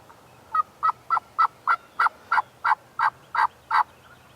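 A wild turkey, called in by a hunter out in a field, gobbles in a fast string of about a dozen evenly spaced, clipped yelps, loud and close with nothing else over it.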